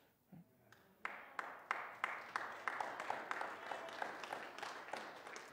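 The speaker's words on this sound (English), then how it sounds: "I'm glad you're clapping." An audience claps through a large hall, at first with a few scattered claps, then in a steady, moderately loud rhythm of sharp hand strikes that settles into a lighter patter.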